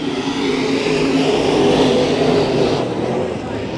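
IMCA modified race cars roaring at the start of a heat race at Bakersfield Speedway, a loud dense engine rumble that swells and holds as the pack pulls away.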